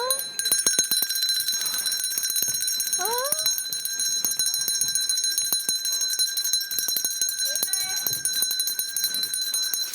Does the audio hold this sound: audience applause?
no